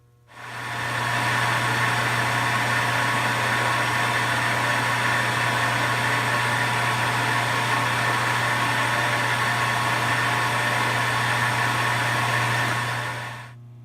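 A metal lathe faces off stock for a spring-style hood hold-down button, spinning up to a steady, loud hum with a cutting hiss that holds for about twelve seconds, then winds down.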